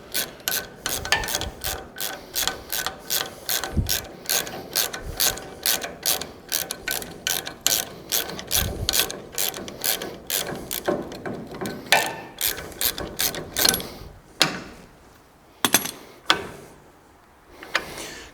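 Ratchet wrench turning out a bolt on a trailer coupling head, a long run of rapid clicking strokes up close, pausing and slowing toward the end, with no talk.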